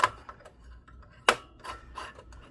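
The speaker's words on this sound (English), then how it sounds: "I like to twist it backwards till you hear it click" A sharp plastic click of a latch snapping into place on a Dell OptiPlex 3050 during CPU replacement, near the middle, with a few softer rubbing and ticking sounds before and after it, close and fairly quiet.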